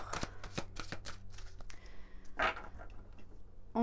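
Oracle cards being shuffled by hand, crisp riffling bursts near and clear, with a pause and another flurry, no talking.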